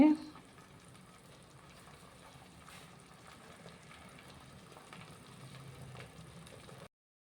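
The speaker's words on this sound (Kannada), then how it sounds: "ಜಪಾನ್ ಆಮ್ಲೆಟ್ ಬೇಯ್ತಾ ಇದೆ" Japanese omelette frying in a pan on a stove, a soft steady sizzle that stays faint and even for several seconds, then cuts off abruptly.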